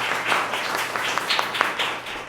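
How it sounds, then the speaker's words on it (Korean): Welcoming applause from a church congregation during a worship service, a steady patter of many hands with a few sharper individual claps standing out, moderately loud and continuous for a couple of seconds. "환영의 박수를 보내겠습니다."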